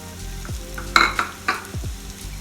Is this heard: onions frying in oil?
yes